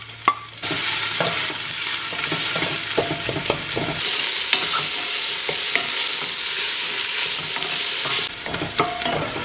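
Garlic and onions sauteing in oil for kare-kare, a loud continuous sizzle that swells midway, with repeated spatula scrapes and taps on the pan.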